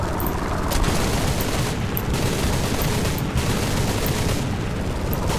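Gunfire in War Thunder, set over Iwo Jima: dense, continuous bursts of rapid shots with periodic heavier booms, loud and sustained throughout.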